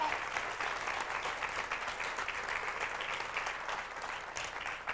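Steady audience applause at a 1995 seminar on surviving personal attacks, even dense clapping throughout at a moderate, slightly distant level with no voices over it.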